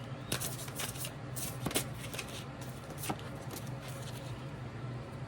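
A Believe in Your Own Magic tarot deck shuffled by hand, with soft riffling bursts and card slaps at a few moments, quiet and close in a calm room.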